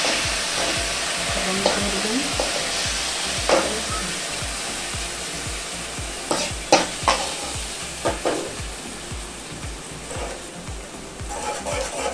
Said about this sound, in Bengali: বাড়িতে তৈরি আদা পেঁয়াজ রসুন পেস্ট করা মশলা দিয়ে দিলাম ভালো করে ফ্রাই করে দিলাম